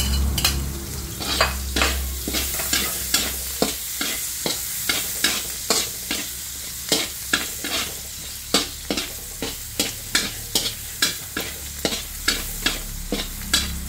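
Garlic fries with translucent onions in a pan for pancit canton: a steady hiss of sizzling oil is broken by regular, loud scraping stir strokes repeating throughout, up close with no voices.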